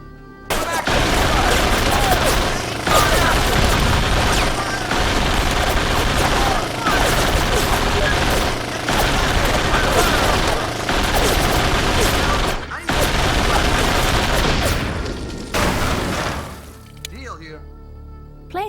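Heavy gunfire in an Xbox war video game, rapid bursts and booming shots packed densely and loud for most of the stretch, with brief pauses and shouted game voices mixed in before it thins out near the end.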